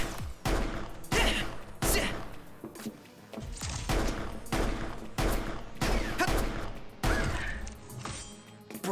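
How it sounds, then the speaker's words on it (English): Repeated loud handgun shots in the video game Final Fantasy XV, fired in quick bursts roughly every second, with booming impacts, crashes and a low rumbling backdrop between shots. "Equip the handgun and shoot them with R1."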